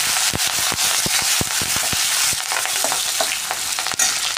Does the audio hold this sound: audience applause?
no